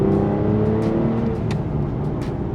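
A powerful 6-litre V12 Aston Martin engine rumbles and revs nearby, its deep drone shifting in pitch with a few sharp high-pitched surges.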